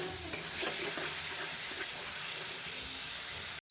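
Spice paste for goat curry fries in oil while being stirred, a close, steady sizzle and hiss with soft scraping stirs that stops abruptly at the end.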